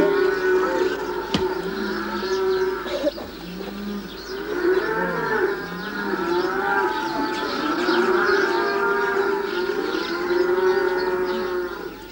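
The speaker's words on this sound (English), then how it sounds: "Mixed herds of donkey and cattle, which the villagers raise and sell, are driven through the rough streets" Cattle moo repeatedly as mixed herds of cattle and donkeys are driven through rough village streets at Eber Lake, Afyonkarahisar, in early morning; the long lowing calls carry loudly over steady background noise, with birds cooing faintly.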